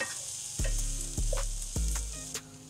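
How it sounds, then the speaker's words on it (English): Roughly cut cabbage frying in a pan with chili flakes, stirred with three distinct scraping strokes over a steady sizzle, no voices. "After which, I'm going to add in some cabbages, let us say roughly 2 cups. Stir this to combine."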